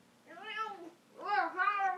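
Mother cat meowing indoors: two drawn-out, close meows about a second apart, the second louder and wavering, with no talking over them.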